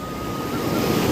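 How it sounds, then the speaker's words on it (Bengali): Sea waves wash steadily onto a beach at Payyanur, Kerala, a close, continuous rushing surf mixed with wind noise, with no voices. "সমুদ্রের আওয়াজ তোমরা শুনতে পাচ্ছ"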